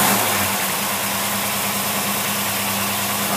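Car engine fitted with a Holley 4780 double pumper carburetor idling steadily right after a restart, a close, loud, even rumble with a slight vibration, and no talk over it.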